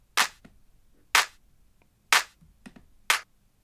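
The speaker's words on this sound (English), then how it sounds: "And that with the second clap." Layered clap samples in a soulful house beat, four sharp, bright claps spaced roughly a second apart, each with a softer trailing hit, clean and up front with no talk.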